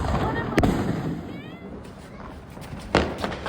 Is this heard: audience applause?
no